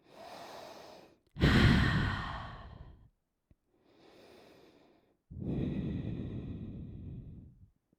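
Deep, audible breaths drawn in and pushed out while holding a plank during a core yoga class, several slow sighing exhales with short pauses between them, close and fairly loud, with no talking.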